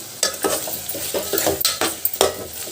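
Taro root pieces dropped into a pan of cooking curry, making a run of close clattering, stirring and scraping knocks of a utensil against the pan, with a light sizzle underneath.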